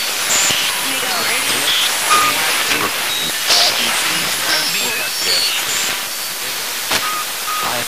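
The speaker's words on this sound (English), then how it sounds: "Here is what it sounds like before a session, with all radio scanning and pink noise mixing" Frank's Box spirit box sweeping through radio stations blended with steady pink noise, a dense continuous hiss laced with brief chirps, tones and fragments of broadcast audio, loud and unbroken throughout.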